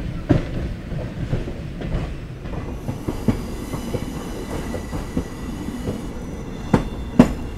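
The SMVT Bengaluru–Mysuru passenger train, pulled by a white locomotive, rolls along the rails around a curve near Yeshwantpur, with a steady rumble and sharp intermittent clacks and knocks from the wheels, heard from on board.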